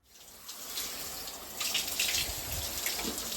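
Water runs steadily from a tap while a wig is washed, a continuous close splashing hiss that grows slightly louder midway, with no voices.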